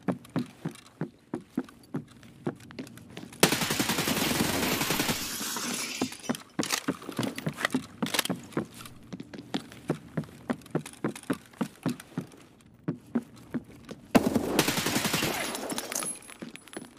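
Gunfire in the video game Escape From Tarkov: bursts of shots and rapid fusillades, with loud dense volleys in two stretches and scattered single cracks between them, close and prominent with no talk.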